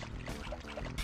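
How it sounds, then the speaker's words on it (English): Water splash in the Sly Cooper and the Thievius Raccoonus video game as the raccoon thief jumps into water, a short watery gush and trickle with a rise in volume at the end. "I just jumped right into the water"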